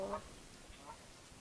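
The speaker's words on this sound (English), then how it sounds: "That is a Canadian goose, I think." A Canada goose gives a couple of distant honking calls, faint against open outdoor air.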